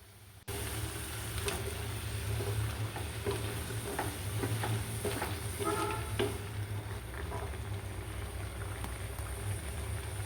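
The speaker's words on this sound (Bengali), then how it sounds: "ডাটা দিয়ে নেড়ে চেড়ে দিচ্ছি।" Vegetable stems cooking with country chicken in a pan are stirred, producing a steady close sizzle with a low rumbling hum and occasional soft scraping and clicks, no speech.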